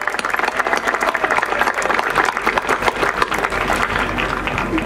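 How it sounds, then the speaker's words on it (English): Loud, dense applause and clapping from a gathered crowd at the relaunch of the restored skipjack Rosie Parks at the Chesapeake Bay Maritime Museum, a sustained roar of many hands that stays strong throughout. "How about a round of applause for the Parks family?"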